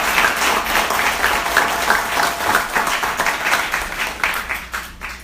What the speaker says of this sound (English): Will you please all give them a warm round of applause?